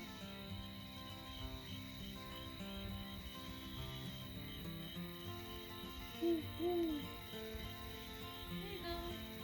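Owls hoot at night at Lake Mineral Wells State Park, a couple of short calls rising slightly above a dense, steady chorus of crickets and insects, with no one talking.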